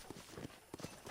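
Faint horse hooves clip-clop in Red Dead Redemption, a few quick, soft pairs of hoofbeats in a brief burst.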